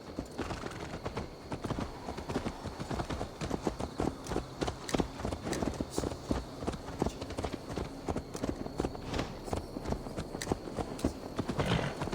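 Continuous rapid clip-clop of horse hooves trotting in the video game Assassin's Creed Valhalla, steady and busy throughout, close and prominent with a dense background bed.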